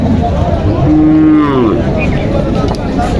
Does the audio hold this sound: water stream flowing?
no